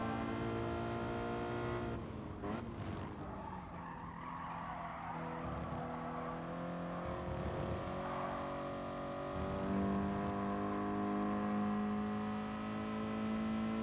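Toyota Supra racing in the Gran Turismo Sport video game, a continuous engine drone with steady harmonic tones and brief tire-squeal skids, shifting in pitch as the car accelerates.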